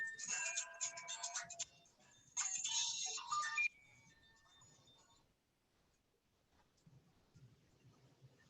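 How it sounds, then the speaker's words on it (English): A mobile phone ringtone goes off in a lecture room, sounding in two bright, melodic bursts before cutting out, followed by quiet room noise and faint movement. "Whose phone went off?"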